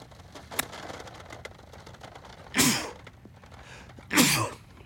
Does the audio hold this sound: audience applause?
no